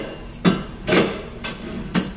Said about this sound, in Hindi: हम इसे बैक साइड से डालेंगे